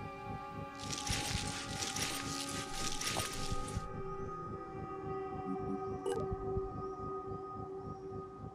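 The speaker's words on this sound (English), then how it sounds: "Now let's get a little closer to that siren." A siren wails in the video game Phoenix Point, a loud, hissing burst that holds for about three seconds over a steady droning, tonal background, followed by a brief sharp electronic blip.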